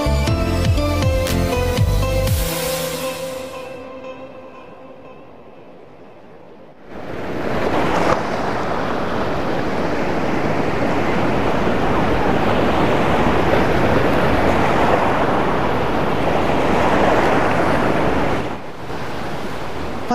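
Surf and wind at Pacar beach in Tulungagung, a broad steady roar of waves with gusty wind buffeting the microphone, coming in after a short burst of music and lasting to the end.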